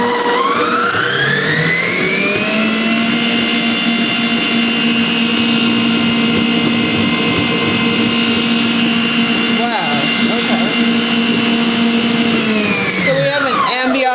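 An electric kitchen mixer runs loud and close with a steady high whine that holds for over ten seconds, then winds down near the end, with no talk over it.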